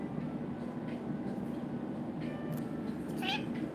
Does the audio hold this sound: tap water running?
no